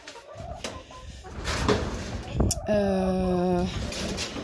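Hens cluck and squawk close by, with one drawn-out harmonic call near the end, amid background chatter and rustling.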